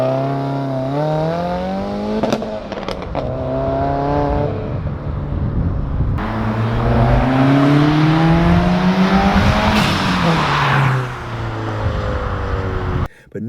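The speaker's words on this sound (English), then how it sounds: "nothing beats the rumble and the sound that the V8 makes" A Ford Mustang GT with a Coyote V8 revs and accelerates hard, its loud rumbling engine climbing through repeated pitch sweeps between shifts, close and continuous for several seconds.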